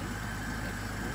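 A Honda GL1500 motorcycle engine idles smoothly in a brief, continuous low hum at an even volume, close by and without any voices.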